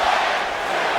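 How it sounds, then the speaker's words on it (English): A broad, dense roar from a wrestling arena crowd in Florida cheering for Triple H in WWE 2K 2008, loud and continuous for a single second with no distinct voices. "this crowd here in Florida is cheering for Triple H"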